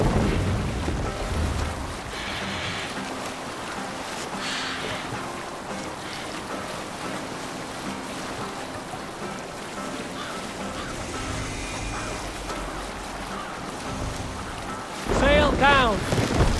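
A sailing ship at sea in Assassin's Creed Valhalla: wind and rolling water wash steadily around the vessel, with creaking and rushing surf, and a short burst of louder activity near the end.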